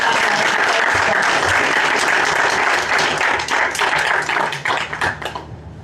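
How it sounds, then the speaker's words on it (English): Full audience applause at a coral conservation pavilion event, a dense, loud wash of clapping that holds steady, then thins into scattered separate claps before fading out at the end. "Maybe a quick round of applause and appreciation"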